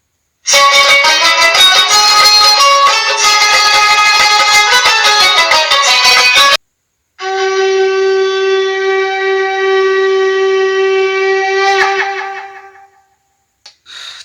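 A Krishna devotional song plays loudly with dense harmonic tones for several seconds, breaks briefly, then a sustained melodic passage continues before fading out.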